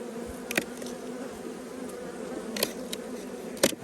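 Steady low hum of many Carniolan honeybees buzzing close by around an opened hive in early spring, a continuous drone with a few brief louder passes of individual bees.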